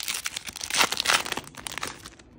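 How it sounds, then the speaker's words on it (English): A foil Pokémon Astral Radiance booster pack being torn open by hand, a close crinkling rip with quick bursts of crumpling that fade out after a couple of seconds. "Sometimes I can't open cards up."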